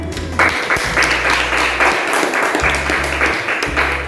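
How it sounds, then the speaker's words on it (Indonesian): Applause for a student group after a classroom physics presentation, a dense wash of many hands clapping steadily and fairly loudly for about four seconds, with no voices over it. "kita beri aplaus untuk mereka"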